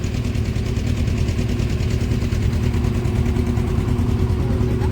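A motorboat engine on the Ganges drones loud and steady at close range, a continuous low rumble with no break across the whole stretch.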